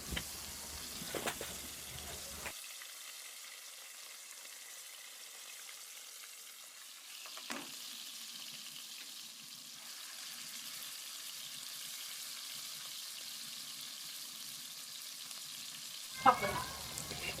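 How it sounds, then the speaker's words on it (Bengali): Chopped onions frying in oil in a kadai (wok) while fish with lentil bori is cooked: a steady, close, hissing sizzle runs throughout, with a few sharp clatters of stirring near the start, middle and end. "পেঁয়াজটা আমি হালকাভাবে ভেজে নিব।"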